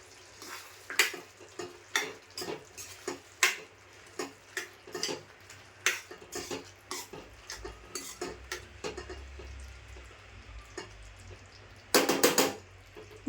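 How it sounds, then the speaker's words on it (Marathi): Wet cashew and potato curry being stirred in a pan with a spoon, giving repeated scraping clinks at an uneven rhythm over a soft sizzle, with a louder burst of rapid clatter near the end. "आणि ढवळून घेते."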